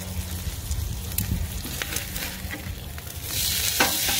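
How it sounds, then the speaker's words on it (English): A burger sizzles on a Blackstone griddle as it is pressed for a sear, a steady close crackling hiss with small scrapes and pops that grows a little louder near the end, with no talk. "press the burger a little bit, just because I do want it to get that sear on top"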